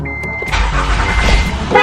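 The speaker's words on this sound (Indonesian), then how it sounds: "Let's try the car and let's turn it on." A car cranks and its engine catches and runs after repair work at an auto shop in the United States, a short tone sounding first, then a steady close idle rumble.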